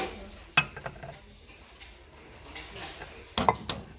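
Black and gold glitter bowls clinking as they are handled, two sharp ceramic knocks separated by quiet rustling, close and moderately faint, with a soft voice in the background.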